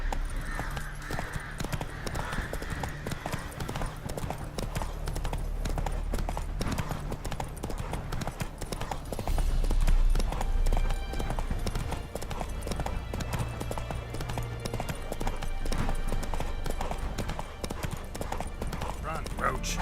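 Roach, a horse in the video game The Witcher 3, gallops with a fast, steady clip-clop of hoofbeats under continuous spoken dialogue and game music.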